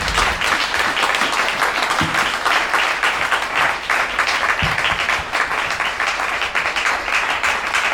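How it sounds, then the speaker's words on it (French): Sustained applause from a church congregation fills the whole stretch, steady and fairly loud, with a couple of sharper claps standing out, during a children's day service. "Sous vos acclamations, je vais remettre la parole à notre Père."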